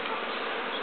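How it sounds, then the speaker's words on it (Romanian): Honey bees carrying pollen at a hive in mid-spring make a dense, continuous buzzing, close and steady throughout with no voices. "Vedem foarte multe albine"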